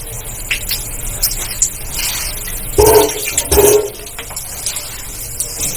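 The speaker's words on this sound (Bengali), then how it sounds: "এবার আমি এতে দেব শুকনো লঙ্কা ফোড়ন।" Three dried red chillies, torn in half, sizzle as they drop into hot oil for a cabbage dish, giving a steady crackling hiss with two louder spitting bursts in the middle.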